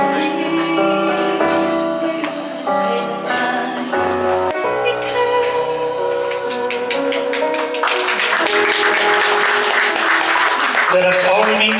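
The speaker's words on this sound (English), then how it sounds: "A big round of applause for our groom and bride, Pastor Ronald and Pastora Mary Grace Lubrera." Applause for the bride and groom at a church wedding vow renewal swells into dense clapping in the latter half, layered over music and a voice speaking.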